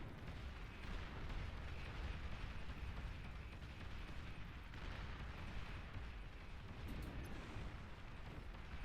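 Heavy, booming blasts from a plasma energy cannon in the real-time strategy game Iron Nest, a dense and continuous roar of rumbling explosions filling the whole stretch at steady loudness.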